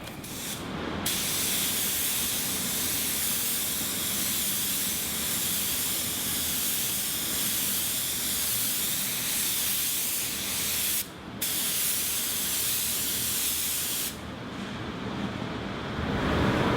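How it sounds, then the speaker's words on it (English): Spray gun applying a water-based car base coat as a wide blending coat during a paint repair, a steady, loud continuous hiss running nearly unbroken for the full length, with brief pauses near the start and middle and a trailing-off at the end. "my plan is to spray to a wider area first with a blending coat"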